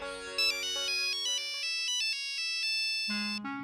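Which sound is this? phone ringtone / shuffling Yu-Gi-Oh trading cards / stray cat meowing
phone ringtone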